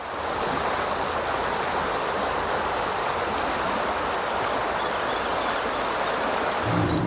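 A river in Yellowstone National Park flows in a steady, full rushing wash of water, constant and fairly loud throughout, with no voices.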